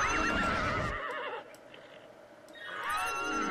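A horse in Ultima Online neighs loudly, a long wavering whinny that drops away into a quieter gap, then the cry rises again toward the end, close and alone without speech.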